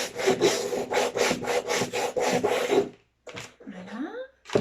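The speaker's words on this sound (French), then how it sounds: "tout ce qui est relief va être poncé" Painted wooden slate hook box being sanded on its raised relief, a steady run of rhythmic back-and-forth rasping strokes, close and clear, followed by a brief pause and a few scraping sounds.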